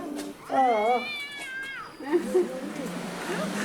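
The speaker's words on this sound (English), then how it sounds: "This cat keeps wanting to slash the shoji doors." A cat in a Japanese hot spring hotel room gives a long, clear meow up close, then a couple of shorter, softer calls, with quiet room tone around them.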